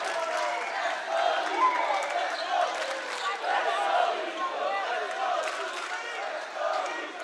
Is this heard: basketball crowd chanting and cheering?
yes